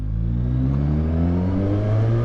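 A Suzuki 1000 Katana motorcycle engine runs nearby at steady idle, a smooth, even hum with a deep rumbling undertone, heard alone.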